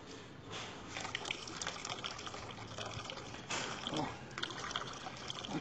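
Water gushes and trickles from a gas cylinder into a basin, a steady splashing pour with a few louder surges, heard up close with some background noise.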